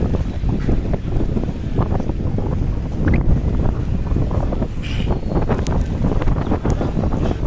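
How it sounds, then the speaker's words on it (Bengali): Strong gusting wind roars steadily across the microphone at a riverside launch terminal during stormy weather, a loud continuous buffeting rumble with faint water and boat sounds beneath and no one speaking. "প্রচণ্ড বাতাস হতেছে।"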